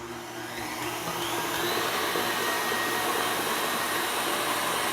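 An electric mixer whirs steadily at high speed while beating olive oil cake batter, a continuous loud buzzing whine that builds slightly and holds without talk.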